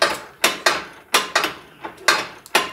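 A hand ratchet clicks in quick sharp bursts, close up, as it loosens the last nut on a Jeep Wrangler bumper, with short pauses between the strokes.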